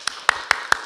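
Applause from a church congregation during a Sunday worship service, heard as four short, evenly spaced claps or taps, moderately loud and close, with no talking over them.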